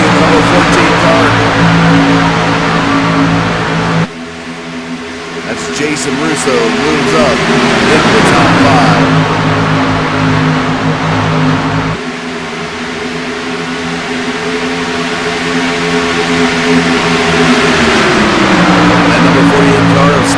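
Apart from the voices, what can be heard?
Xfinity race cars racing at Auto Club Speedway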